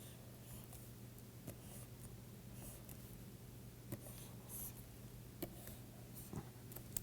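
Chalk or marker writing on a board while graphs of basilar membrane amplitude are drawn during a lecture on the human auditory system: faint, intermittent scratches and taps over a steady low room hum, with no talking.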